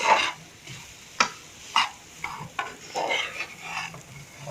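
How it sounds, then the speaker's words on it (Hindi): Potato samosa filling being stirred with masala in a pan, a soft background sizzle broken by several sharp spoon scrapes and knocks against the pan at irregular intervals, close and without talk. "अब हम इसमें मसाला जार डाल देंगे। मिक्स कर लेंगे अब अच्छी तरीके से।"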